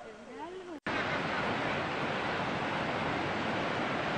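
Chachín waterfall, a dense, steady roar of falling water heard close and constant after a brief voice at the start.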